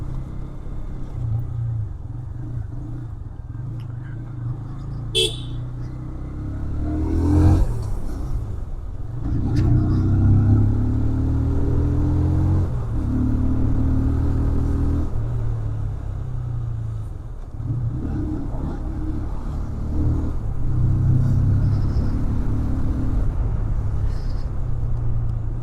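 A TVS Apache RTR 160 2V motorcycle engine drones steadily while riding through the city, with a low rumbling hum, shifting pitch and a couple of sharp clicks, alongside wind noise.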